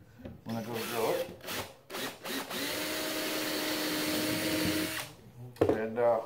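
A power drill whines steadily for a few seconds, boring into wood on a rocking chair seat, with brief speech before and after the run.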